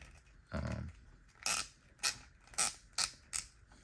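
Squeaky plastic joints of a Storm Collectibles Baki action figure creak as the limbs are moved, one low grinding creak followed by five short, sharp squeaks in a fairly regular rhythm, close and clear with no talking.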